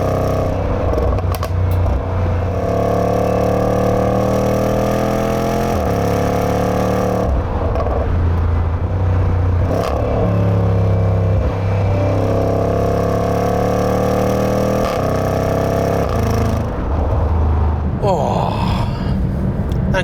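Jaguar F-Pace SVR engine pulling hard through repeated rising gears, each climb broken by a brief dip at the shift, loud and close throughout with no talking.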